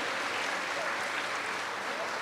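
Applause from an audience at an international agronursing conference honoring a guest speaker, a steady dense patter of clapping that fills the clip evenly at moderate level.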